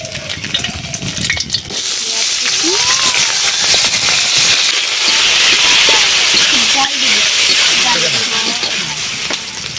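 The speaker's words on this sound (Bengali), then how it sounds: "তেল গরম হয়ে গেছে দিয়ে দিচ্ছি গোটা শুকনো লঙ্কা তেজপাতা" Loud crackling sizzle as whole dry red chillies and bay leaves hit hot oil, popping and hissing close up, with a voice speaking over it.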